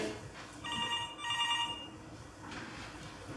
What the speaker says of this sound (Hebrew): הטלפון במשרד מצלצל